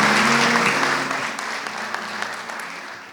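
Audience applause at the Royal Conservatory of Music welcoming Renée Fleming and Sean Hutchins, a dense, steady clatter of clapping from a crowd that gradually thins and softens toward the end.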